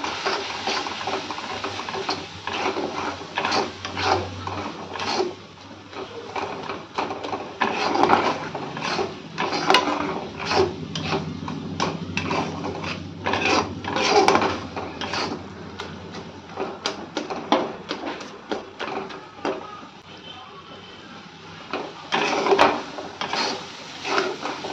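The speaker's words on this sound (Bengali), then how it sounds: "আর এখন আমি দিয়ে দেব নিজে লঙ্কা গুঁড়ো, ধনে গুঁড়ো আর হলুদ গুঁড়ো, এটা দিয়েও একটু কষিয়ে নেব।" Boal fish being stirred and fried with chili, coriander and turmeric powders in a pan, a continuous sizzle broken by frequent scraping and knocking of a spatula against the pan.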